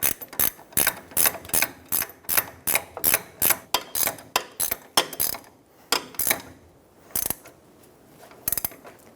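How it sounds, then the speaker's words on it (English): A ratchet wrench snugs down the upper ball joint nut on a 2014-2018 Chevrolet Silverado 1500 front suspension, giving a close, loud series of rapid clicking bursts in an uneven rhythm with brief pauses between strokes. "Using a pry bar in the coil, pull that upper control arm down and snug down the upper ball joint nut."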